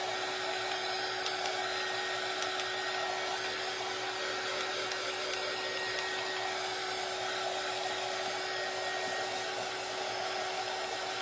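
A hair dryer roars steadily and loudly at close range for the whole stretch, blowing air to dry handmade craft pieces, with a constant high whine and no voices.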